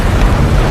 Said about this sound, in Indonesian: Lalu bom pun meledak pada waktu yang bersamaan.